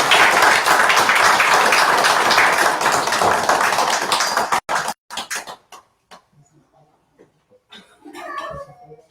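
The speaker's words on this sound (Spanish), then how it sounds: "Y los invito a que la despidamos con un aplauso." An audience at a talk on borderline personality disorder applauds in a full, dense burst that breaks off into a few scattered last claps, followed by quiet and then a voice speaking.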